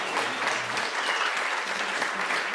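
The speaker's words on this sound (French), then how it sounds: "Akatsuki est là, on les applaudit." An audience at an award ceremony, the Games on Web 2023 prize presentation, applauds steadily, with dense clapping at an even level for the full length and faint voices underneath.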